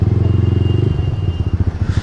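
Motorcycle engine on an empty night road in Delhi, a steady close throb that pulses rhythmically and then breaks into choppier revving, loud and alone without talk.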